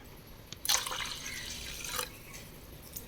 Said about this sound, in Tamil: 1 கிளாஸுக்கு 2 கிளாஸ் தண்ணி ஊற்றி ஃபஸ்ட்டு நல்லா கரைச்சிக்கணும்.